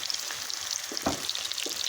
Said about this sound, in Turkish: Yağımızı kızdırdık. Kızartmaya başladı.